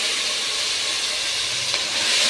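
Onion and tomato gravy for pav bhaji poured into hot oil, giving a loud, steady, close hiss of sizzling that holds without a break.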